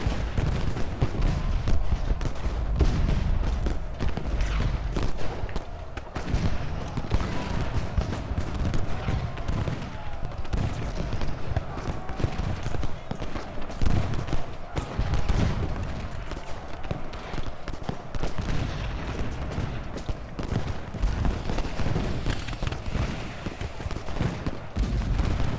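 Advancing troops in Ultimate General: Gettysburg fire volleys of musketry, a continuous crackle of overlapping shots with occasional heavier booms, steady and moderately loud throughout.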